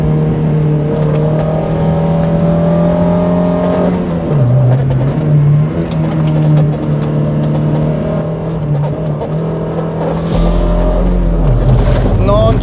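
First-generation Mazda MX-5 with pop-up lights, its engine revving long and smoothly toward 6,000-6,500 rpm with a rising tone, then easing off; someone talks over the loud, close engine note.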